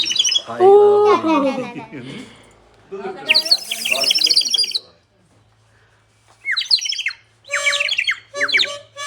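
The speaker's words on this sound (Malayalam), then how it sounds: "അതിനകത്ത് വെള്ളം നിറച്ചാല് ഒരു കിളി കരയുന്ന സൗണ്ടായിരിക്കും" Warbling, bubbly bird-like trills from a water-filled clay bird whistle, blown in several bursts with a voice speaking between them.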